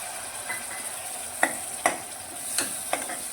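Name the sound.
stirring tomato puree into spiced pigeon pea curry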